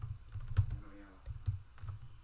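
Quiet keystrokes clack on a computer keyboard in short irregular bursts, a few clustered taps then pauses, close and soft.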